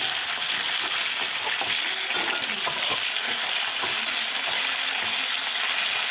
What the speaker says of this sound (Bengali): মাছটাকে ভেজে নিচ্ছি, এবার মাথাটাকে ভেজে নেব মাছের।